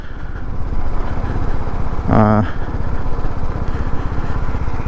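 Motorcycle engines on a group bike ride from Kolkata toward the Sundarbans, a loud steady rumble with a brief rising rev near the middle, close and continuous throughout.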